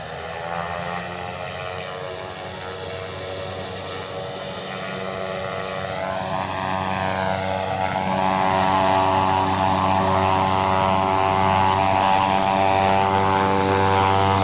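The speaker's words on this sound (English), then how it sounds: "Front engine starting up now." A propeller aircraft's front engine cranks and spins up at Aberdeen, its steady drone rising in pitch and growing louder and smoother as it settles into a constant roar.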